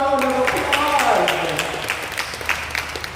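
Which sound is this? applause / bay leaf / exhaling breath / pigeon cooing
applause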